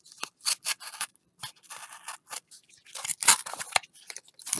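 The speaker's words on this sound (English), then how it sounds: "I'm just going to cut this out." Scissors cutting out a paper coin holder make a series of crisp, close snips and crunches in irregular bursts, some quick clusters, no talking.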